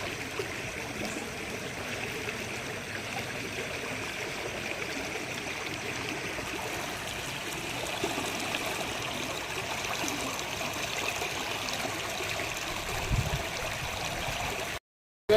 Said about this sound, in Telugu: 2 రోజులు వర్షం నీళ్ళు చెత్త నీళ్ళు తిరిగినాయి.